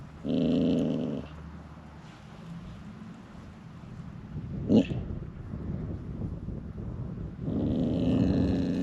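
A trapped coyote on a farm makes low, rough growling bursts, loud and near at the start and again near the end, with a sharp short sound midway and quieter rumbling between.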